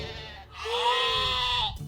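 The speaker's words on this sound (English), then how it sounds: "It sounded like a sheep." A sheep gives one drawn-out, wavering bleat, clear and close. It rises after a short pause and holds steady before cutting off, with no talk.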